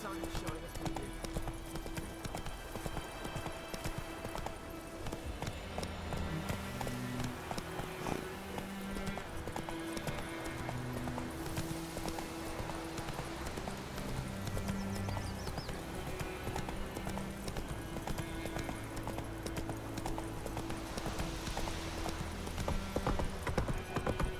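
In the video game Witcher 3, a horse gallops with rapid, rhythmic hoofbeat clip-clops and an occasional whinny. Game music plays underneath, and a voice is present.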